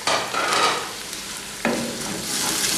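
Finely chopped onions frying in a pan for a pinwheel samosa filling, a steady close sizzle with a stirring scrape partway through and a renewed burst of frying noise after it.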